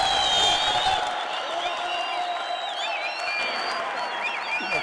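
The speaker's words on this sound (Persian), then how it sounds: "همچنین خواهش میکنم که جناب آقای شمبل روزکار هم با تشویق‌های شما به جایگاه تشریف بیارن" A seated audience at a staged show claps continuously to welcome a guest to the stage, a fairly loud, even round of applause with scattered cheering and a faint voice underneath.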